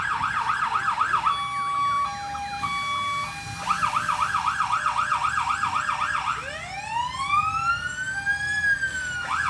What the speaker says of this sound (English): with those sirens and the lights flashing